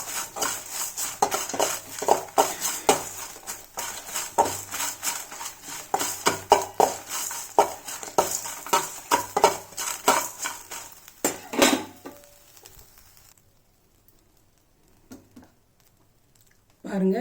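Spoon or ladle scraping and clattering against a kadai as dried chillies are stirred and fried, steady repeated metallic scrapes for about twelve seconds, then near silence with a few faint knocks.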